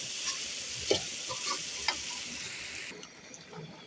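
Onion and garlic paste is stir-fried in a pan, giving a steady close sizzle with a few soft scraping stirring strokes before it quiets slightly at the end.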